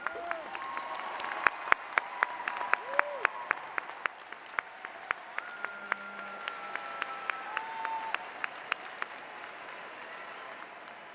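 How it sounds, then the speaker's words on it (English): Scattered, thinning applause from a seated audience at a university freshman convocation, honoring orientation leaders and resident advisors; claps start dense then trail off into sparse individual claps over roughly eleven seconds, with a brief faint voice partway through. "let's give them a warm round of applause"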